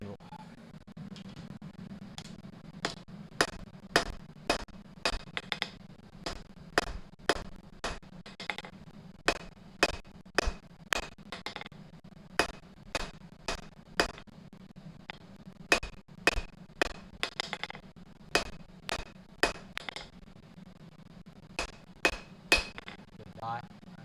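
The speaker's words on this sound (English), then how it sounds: "Let's go back to the anvil." Metal being hammered on an anvil during blacksmith forging, a long run of sharp ringing strikes in steady bursts with brief pauses, close and clear over a low hum of a hot forge or fan.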